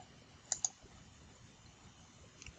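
Mouse clicks while working in Fusion 360 software, two quick close clicks followed later by a softer pair, faint and isolated against a quiet room hum.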